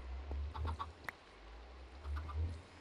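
Minecraft chickens on a chicken farm cluck in scattered short calls over a low steady hum, moderately close, with no talk.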